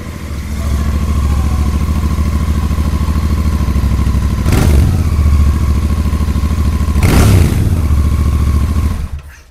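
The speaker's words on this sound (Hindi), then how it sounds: "अब मैं आपको एग्जॉस्ट का साउंड सुना देता हूँ।" A Royal Enfield Bear 650 scrambler idles with a deep, bassy exhaust thrum up close, blipped twice into short revs before the engine cuts off.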